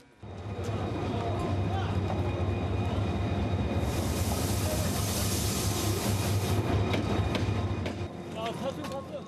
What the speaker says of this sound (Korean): 부대가 있는 증평에서 강릉까지는 기차로 이동합니다.